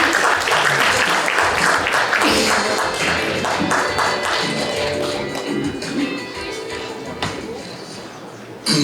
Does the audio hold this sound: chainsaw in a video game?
no